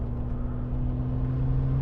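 Brabus G800 with its V12 engine running while driving on an open road, a steady low rumbling drone with a constant hum, close and continuous throughout without any talk.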